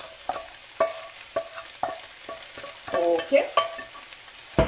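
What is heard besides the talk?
vegetables added to meat mixture sizzling in pan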